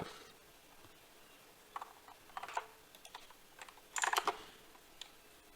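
Keys typed on a computer keyboard while writing C code on Linux, with scattered clicks and a few quick bursts of several keystrokes, close by and fairly quiet, with no talk.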